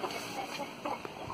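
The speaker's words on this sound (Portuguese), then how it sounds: "Essa galinha aqui, ó, tá na segunda chocada." A broody hen sitting on her second clutch of fighting-breed eggs gives soft, close clucks in short irregular bursts over a low, steady background.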